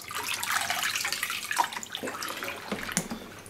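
Water sloshes and splashes in a tub as a Dyson hot+cool fan heater is dunked for cleaning, a close, continuous churning with irregular louder gurgles and drips.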